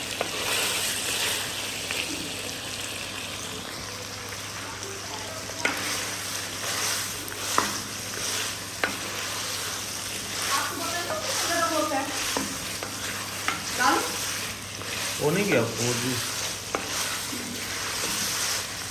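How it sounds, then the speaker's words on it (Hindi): Meat pieces frying and being stirred in a pot of gravy, a continuous sizzle broken by repeated scraping stirs of the spoon, with people talking briefly over the cooking. "यहाँ पे अब इसको हम भून रहे हैं"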